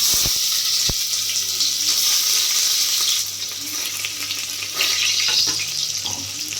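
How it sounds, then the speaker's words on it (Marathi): Onion drops into hot oil for Maharashtrian prawn rice, setting off a loud close sizzle that eases midway, with a few sharp clinks of utensils. "तेल आपलं तापलेलं आहे, सो त्याच्यामध्ये मी कांदा टाकतोय."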